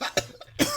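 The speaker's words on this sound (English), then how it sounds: "I'm coughing now too." An adult coughs twice in a short, sharp burst, close to the microphone, in an indoor studio after inhaling nitrous.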